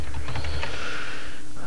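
Quick, light keystrokes tap on a computer keyboard close by over a steady background hiss, brief and somewhat muffled.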